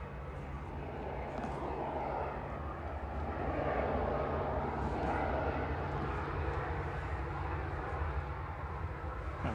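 Ryanair airliner passing at Manchester Airport, a broad steady engine rumble that swells in the middle and eases off, heard from a distance and fairly faint, with no voices.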